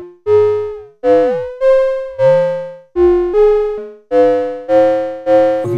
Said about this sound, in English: We can get some nice FM tones,